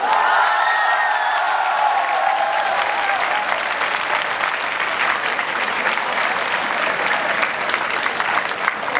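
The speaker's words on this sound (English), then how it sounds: "Please give him a huge round of applause, Mr. Hamza Tariq." An audience at a prize distribution ceremony during a conference applauds steadily, a dense continuous wash of many hands clapping at full volume for the whole stretch, with faint cheering at the start.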